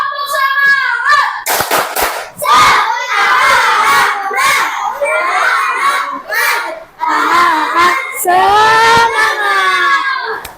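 Children join in the tepuk semangat clapping chant led by a classmate, sharp hand claps punctuating loud shouted chanting, with cheering voices rising near the end.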